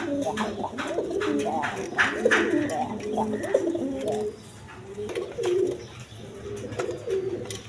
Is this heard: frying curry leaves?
no